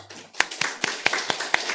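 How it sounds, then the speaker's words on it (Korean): Church congregation clapping during a Sunday worship service, sharp individual claps landing in a quick irregular rhythm, close and fairly loud, with no talk over them. "하나님께 영광의 박수"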